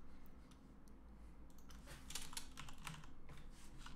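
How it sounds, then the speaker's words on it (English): Keys clatter on a computer keyboard while code is written, a quiet, uneven run of close clicks that grows busier in the second half, with faint background hum and no voices. "Look, I'm just done typing that out."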